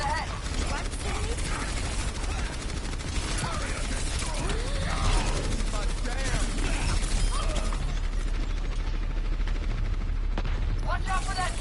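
An enemy automated turret in the game Overwatch keeps up a dense, loud mechanical stream of rapid gunfire and ratcheting clatter, with announcer callouts heard through the steady barrage.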